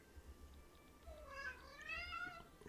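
A cat meows several times in a row, soft and fairly close, the calls rising and falling over a low background rumble.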